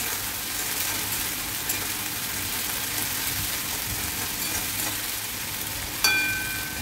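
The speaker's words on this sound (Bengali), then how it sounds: "একটু নাড়াচাড়া করে নেব।" A ginger, garlic and green chilli paste is stirred with onions in a hot pan, making a steady, close sizzle throughout, with a brief utensil clink near the end.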